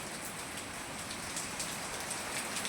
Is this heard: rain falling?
yes